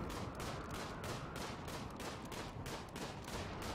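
Colonists in RimWorld fire on a boom rat in rapid, evenly spaced bursts of gunfire, roughly a dozen sharp shots in a steady rhythm over a constant rumbling background.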